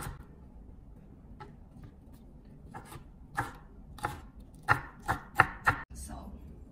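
Knife chopping the white part of a green onion on a board for mapo tofu, a sparse run of crisp taps that grows into several louder, closely spaced cuts near the end.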